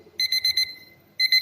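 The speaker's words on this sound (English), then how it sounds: "Look, the alarm sounded come from here." A kitchen timer alarm rings in rapid electronic beeps, one burst of about five quick pulses, a short pause, then a second burst starting up, close and clear with no talking.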